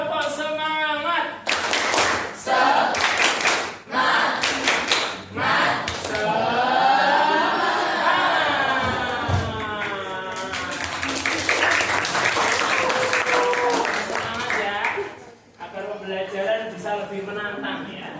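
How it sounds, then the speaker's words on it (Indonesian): A classroom group performs the rhythmic tepuk semangat clap, with sharp unison claps in patterned bursts alternating with loud chanted voices, ending in a stretch of quicker clapping. "Yuk yang lebih semangat. Tepuk semangat."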